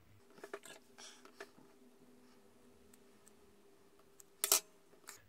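Scissors cut through wicking material for a vape coil, making small, quiet snips and rustles spread over several seconds, with one sharp louder crunch near the end.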